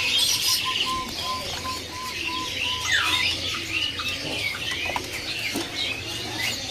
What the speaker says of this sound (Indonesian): Ini ada burung kopi kalung ya.